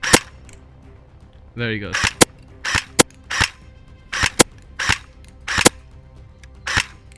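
An LCT AKM electric blowback airsoft rifle fires a string of sharp single shots, each a crisp snap with mechanical clack, spaced irregularly, with brief talk at the start.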